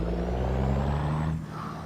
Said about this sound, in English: This truck sounds, engine sounds extremely good whenever you get on it